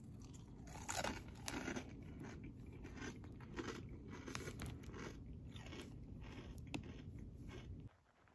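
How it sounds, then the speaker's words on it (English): Close crunching and chewing of Chex Mix snack, a continuous run of crisp bites and munching that stops abruptly at the end. "for now I'm just snacking on some Chex Mix"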